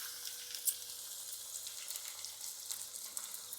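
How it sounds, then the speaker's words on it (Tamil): Onions fry in hot peanut oil in a pan already used for sautéing paneer, producing a steady, faint crackling sizzle throughout with a few small pops. "இப்போ வந்து நம்ம வெங்காயத்தை போட்டுக்கலாம்."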